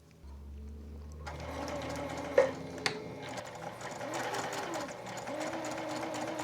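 A sewing machine running a straight stitch through denim for an iPad sleeve, a steady close mechanical whir with rhythmic needle chatter, a couple of clicks, holding on without pause.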